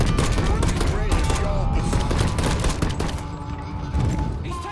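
Rapid gunfire from the video game Mafia III, dense bursts of automatic shots with booming impacts, loud and close, continuing in near-unbroken volleys with music and effects layered underneath.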